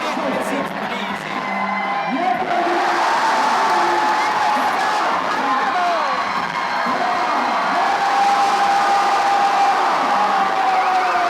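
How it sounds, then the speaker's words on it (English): A loud crowd cheers and whoops continuously at the 2019 Yank N Yard climbing finals, shouts and hollers layered in a roaring, sustained wall of noise with voices calling out through it. "I can't even hear myself right now because the crowd was so loud."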